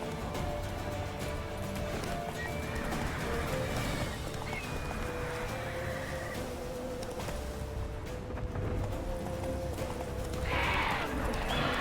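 Geralt's horse Roach gallops in The Witcher 3: Wild Hunt, a steady clip-clop of hooves running under game music and ambience, with a brief whinny-like sound near the end.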